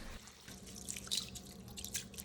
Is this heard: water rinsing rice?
yes